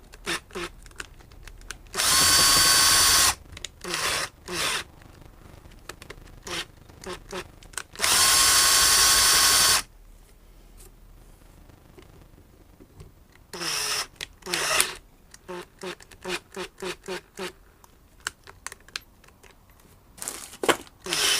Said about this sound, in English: I'm going to do that with a drill bit. This is a 9mm drill bit.